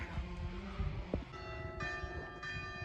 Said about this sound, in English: So you can hear the church bells in the background telling me to stop working.